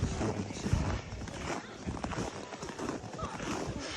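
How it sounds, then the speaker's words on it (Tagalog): A horse's hooves clip-clop in a steady walking rhythm during a paid horse ride in Alberta, Canada, moderately close and fairly quiet, mixed with outdoor background noise and faint voices. "Kabayo."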